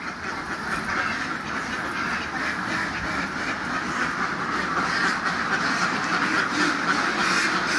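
A crowd of ducks in a duck farm coop quacks continuously, many overlapping calls blending into a dense, noisy chorus that stays steady throughout.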